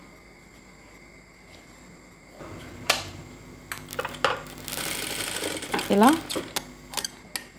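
A sewing machine stitches thread piping on a blouse in short, uneven bursts of mechanical clattering and tapping, with rustling handling of fabric between runs and someone speaking briefly.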